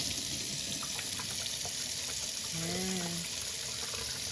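Tap water runs steadily over a freshly cut agate rock slab from a diamond slab saw, a constant hissing splash held at close range, with a faint brief tonal whine midway and no talking.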